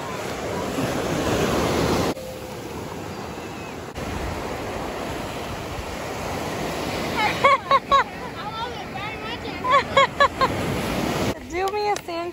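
Surf washes continuously onto a beach during a family beach day, a loud, close wind-blown roar, with voices and children's shouts breaking in over the waves toward the end.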